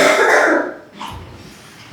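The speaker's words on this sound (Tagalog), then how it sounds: "yung aso niyo po ata, ang ingay po" A dog gives a short, rough bark, then quieter noises follow; close and brief.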